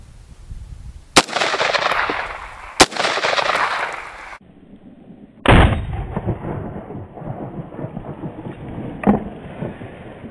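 An AR-platform rifle fires at a milk jug outdoors. Three loud, sharp reports crack out, spaced a second or more apart, each followed by a rumbling outdoor echo that fades away.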